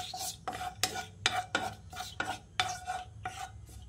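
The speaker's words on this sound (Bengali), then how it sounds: "এবার এলাচ আর তেজপাতাটা দিয়ে ঘিয়ের সঙ্গে কিছুক্ষণ ভেজে নিচ্ছি।" Cardamom and a bay leaf fry in ghee for sweet vermicelli, as a spoon pushes them around in about nine rhythmic scraping strokes over a faint sizzle, quiet and without talk.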